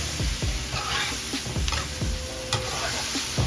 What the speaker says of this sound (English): You gotta keep stirring.